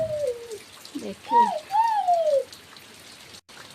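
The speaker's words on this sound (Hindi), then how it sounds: "जस्ट अभी अभी बारिश आना शुरू हो गया है।" Rain falls outside a home in a steady, soft hiss beneath a woman's close speech, running throughout.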